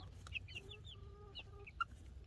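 Several short, bright chicken clucks and chirpy calls come close by over a low steady hum, with no talking.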